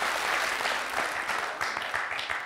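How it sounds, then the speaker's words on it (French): Studio audience applause on a French television quiz show, a dense, continuous burst of many people clapping at close range throughout. "Alors ça, ça s'applaudit."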